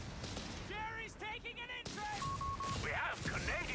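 Gunfire in Company of Heroes 3 as a Panzer squad in a light carrier comes under fire, with scattered battle pops and thuds low under a continuous excited voice talking throughout.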